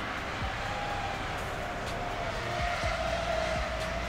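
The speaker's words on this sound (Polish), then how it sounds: "Dobra, jedzie jakieś auto." A car drives past outdoors, heard as a steady engine and road rumble with a faint tonal whine, continuous and moderately loud, with no talking.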